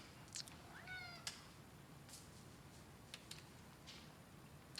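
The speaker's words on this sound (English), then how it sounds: "Tuco, what do you want, little cat?" A small cat meows once clearly up close in a quiet room, followed by a few faint clicks and light taps.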